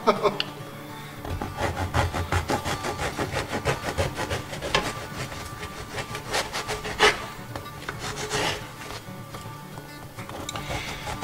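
A knife saws rounds off a loaf of crusty bread, making a fast run of rhythmic rasping strokes that scrape loudly and close by.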